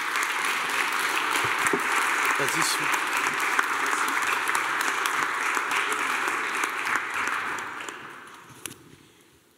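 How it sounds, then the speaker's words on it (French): Warm applause at an annual restaurateurs' congress honouring the chef of a French embassy kitchen, a dense, steady clapping crowd that fades out near the end while a voice briefly speaks. "Je vous demande d'applaudir chaleureusement"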